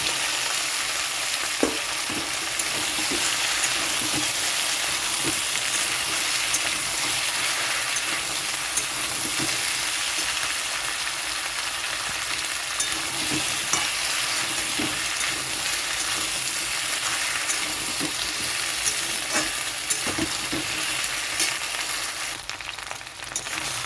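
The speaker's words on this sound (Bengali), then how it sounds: "আলু আর কচুটা একটু ভাজা হয়ে গেছে।" Taro (gati kochu) and potatoes fry in oil with ginger and garlic in a kadai: a steady, close sizzle runs throughout, broken by scraping stirs and small clicks, with no talking.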